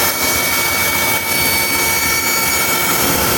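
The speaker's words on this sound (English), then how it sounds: "If you're in 7th or 8th grade, we can use the bandsaw." A bandsaw cuts through a workpiece with a steady, loud, broadband whir that holds without a break for about three seconds. No voices are heard over it.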